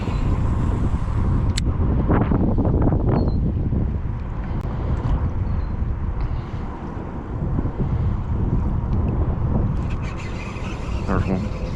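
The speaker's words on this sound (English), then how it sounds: "the wind is a challenge" Strong wind buffeting the microphone while kayak fishing on open water, a loud, steady low roar with gusty surges throughout and brief knocks on the boat, a voice speaking intermittently beneath it.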